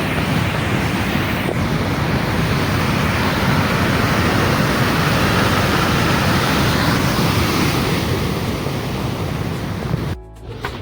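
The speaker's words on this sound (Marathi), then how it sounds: "पलीकडला आहे तो नळ धबधबा आहे." Waterfall near Naldurg Fort in Dharashiv, Maharashtra, seen across green surroundings, gives a loud, steady broadband roar for about ten seconds that cuts off sharply near the end. No one speaks.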